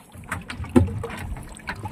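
Seawater drains out of a Yamaha 15 hp outboard motor that was submerged in the sea, a soft uneven splashing and trickling with a small thump near the middle, nearby and fairly quiet.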